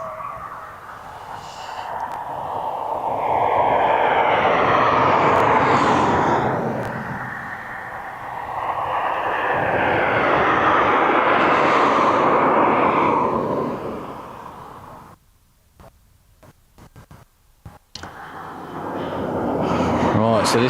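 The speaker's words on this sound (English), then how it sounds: "Right, so this is the TUI Max 8 off to Hurghada." A TUI Boeing 737 Max 8 departing East Midlands Airport for Hurghada, a distant jet engine roar that swells and fades twice, with wind buffeting and people chatting over it in the open air.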